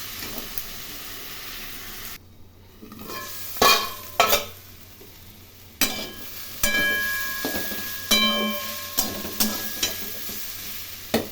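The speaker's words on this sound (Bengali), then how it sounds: "এখন ভালো করে ভেজে নেব। লো ফ্লেমে ঢাকা দিয়ে এগুলো ভেজে নেব।" Coriander, turmeric and salt frying over a low flame for a small fish curry, a gentle hissing sizzle punctuated by a series of distinct spatula scrapes and clinks against the pan, with no talk.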